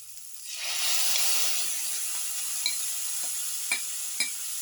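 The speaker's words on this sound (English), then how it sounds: "cottage cheese or paneer pieces. Saute thoroughly" Paneer pieces sautéing in a hot pan, a steady close sizzle and hiss rising quickly, with a few sharp clicks of a spoon stirring.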